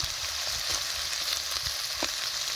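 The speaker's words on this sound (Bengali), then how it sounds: "এখন পনিরটা হালকা লাল লাল করে ভেজে নিই" Paneer frying in oil in a pan on a clay stove, a steady close sizzle with faint crackles and occasional stirring scrapes, no voices.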